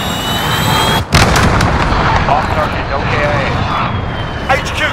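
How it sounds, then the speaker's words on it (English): A cruise missile strike in the video game Call of Duty Modern Warfare: heavy, loud blasts and booming rumble fill the scene, with a sharp break near the start, a later burst, and a constant roar of battle around them. "This is Jaguar 2-0, cruise missile away."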